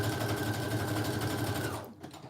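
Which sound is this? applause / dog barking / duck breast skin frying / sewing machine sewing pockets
sewing machine sewing pockets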